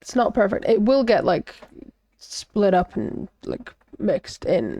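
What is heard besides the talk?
No everyday noise stands out behind the speech.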